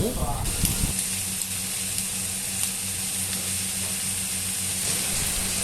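Pork belly and shallots stir-frying in a pan, a steady loud sizzle and hiss throughout with a stirring clatter at the start, under a voice talking.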